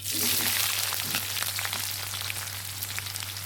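Mustard seeds and chopped onions fry in hot oil for a village-style dried anchovy thokku, a steady close sizzle with scattered crackles and pops over a low hum, no voices.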